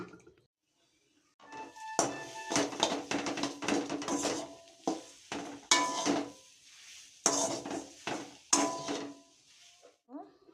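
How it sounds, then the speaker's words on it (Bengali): Boiled potatoes mashed by hand for chop, a run of close, soft squishing presses and light knocks in an uneven rhythm, separated by short pauses. "আলুগুলো এবার ছেনে নেব।"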